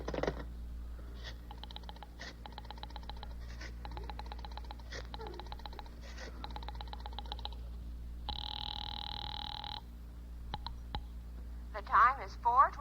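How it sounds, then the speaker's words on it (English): Old radio-broadcast rotary telephone being dialed to a number, a long run of rapid clicking pulses followed by a steady two-tone ring, with a brief voice near the end. "Dial Ulrich 8900"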